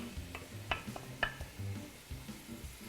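Softening vegetables for a Bolognese sauce stirred in a pan: a soft, low sizzle with a few scraping spoon strokes and light clinks, quiet and without talk.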